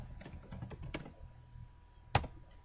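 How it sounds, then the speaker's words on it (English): Keystrokes on a computer keyboard as a name is typed into a spreadsheet cell, a quiet irregular patter of taps ending in one sharper, louder key hit, with no talking. "type in your first and last name"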